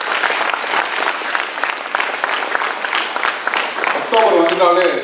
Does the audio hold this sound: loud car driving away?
no